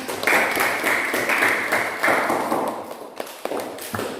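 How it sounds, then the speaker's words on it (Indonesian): Students in a classroom clap their hands together for a few seconds, a fairly loud, dense patter of claps that thins out with a few scattered taps near the end. "Tepuk tangannya."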